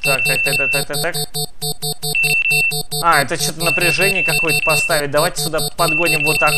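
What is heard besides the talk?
alarm siren in the video game Sneak Thief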